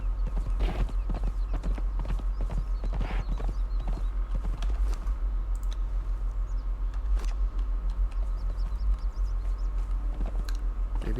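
A mount's hooves clip-clop steadily while a rider travels in the video game Conan Exiles, the footfalls repeating at an even pace over a constant low hum with no talking.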